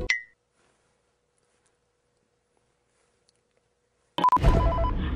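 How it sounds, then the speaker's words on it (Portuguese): Telephone ringing in an animatronic video game: a brief chirp at the start, then near silence, then a loud ringing tone bursts in near the end. "por que tem um telefone tocando?"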